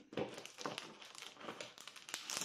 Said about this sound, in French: Je vais essayer de le remettre dans ma pochette sans l'abîmer.